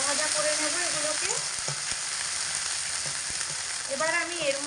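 Taro flowers with half-ground green chili paste fry in a pan, a loud, continuous close sizzle with occasional stirring clicks and scrapes.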